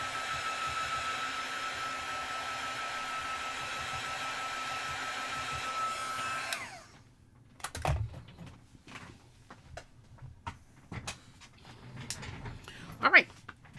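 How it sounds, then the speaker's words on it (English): A crafting heat tool blows over wet pigment ink with a steady, close whirring roar for several seconds, then switches off, leaving small handling clicks and rustles while a person talks. "I'm just going to dry this. This pigment ink stays wet a little longer."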